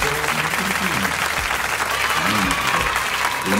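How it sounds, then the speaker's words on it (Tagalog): A crowd applauds steadily for the new president of the Philippines, dense continuous clapping filling the whole stretch, with a voice talking over the applause. "So, palakpak naman tayo. Para sa bagong presidente ng Pilipinas."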